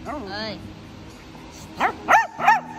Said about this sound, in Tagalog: Tahol ng tahol sa ibang mga kasamang aso.